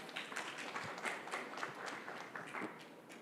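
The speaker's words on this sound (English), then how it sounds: "May we have a big round of applause, please" An audience at an auto and fuel summit applauds, dense steady clapping filling the hall at moderate volume for several seconds without a break.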